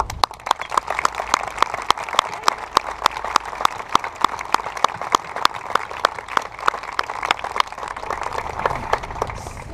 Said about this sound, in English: please join me in applauding 65 years of service through education and 117 years of service between our Marines and Hospital Corps